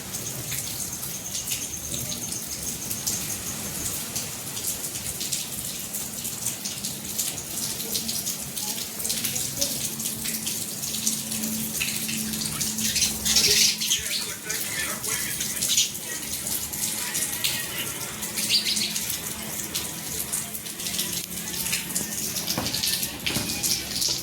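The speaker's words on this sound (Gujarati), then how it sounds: "કેવો જોરથી પવન ફૂંકાયો છે સામે જોઈ રહ્યા છો તમે ફૂલ વાવાઝોડું ચાલુ જ છે" A steady, loud rushing roar of a strong windstorm in Vav-Tharad, Banaskantha, Gujarat, with a rain-like patter mixed in, continuing without a break.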